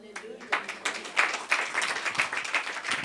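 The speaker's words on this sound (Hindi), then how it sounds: "अब तालियां बजाएंगे" A church congregation claps in a quick, uneven rhythm of sharp hand claps, moderately close, while a voice keeps talking over it.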